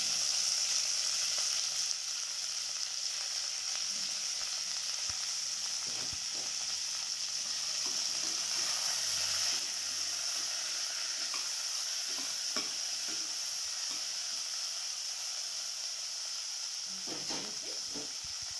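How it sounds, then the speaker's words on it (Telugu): Tomato, green chilli and bean seeds frying in a pan, a steady soft sizzle and hiss that runs unbroken, with occasional light scrapes and taps of a spoon stirring near the end. "టమాటా, పచ్చిమిర్చి అన్నీ వేసి వేయించుకుంటున్నాను."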